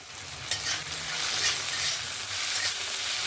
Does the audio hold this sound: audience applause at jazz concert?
no